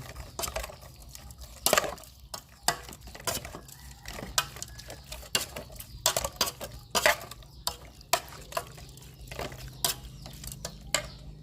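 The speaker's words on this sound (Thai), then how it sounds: "ใส่ข้าวคั่ว หอมหอม คนคนให้เข้ากัน" Pork larb mixed with toasted rice and chili powder is stirred in a bowl with a spoon, giving irregular scraping clinks and taps that come in bursts, close and fairly loud.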